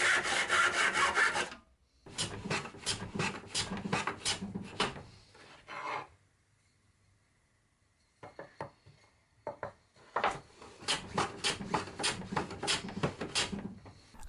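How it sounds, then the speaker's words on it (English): A hand saw cutting off excess wood from a beech chair part, rhythmic rasping strokes in several bursts separated by short pauses, close and clear. "Then I marked some extra length for dovetails and cut off the excess."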